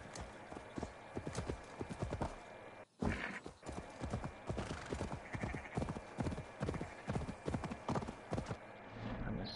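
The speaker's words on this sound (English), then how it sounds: "he's such a beautiful horse" A video game horse clip-clops steadily at close range, its hooves beating a continuous rhythm, with a brief neigh partway through and faint talk underneath.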